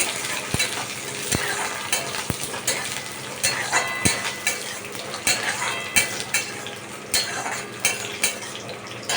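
Washed Gobindobhog rice dropped into hot oil for thor pulao: a steady, close sizzle with repeated metallic clinks and scrapes of a spoon stirring in the pan.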